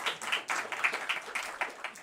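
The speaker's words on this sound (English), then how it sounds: "we use this applause for our sponsors" Small conference audience clapping, a light, uneven patter of hands at moderate distance, fairly quiet and lasting a couple of seconds.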